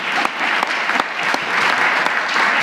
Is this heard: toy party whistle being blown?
no